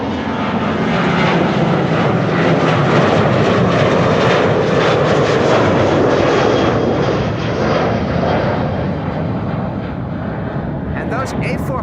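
An Airbus A400M military transport passes near Amsterdam Schiphol, its loud propeller engines a sustained throbbing roar that swells and slowly eases, with people talking underneath.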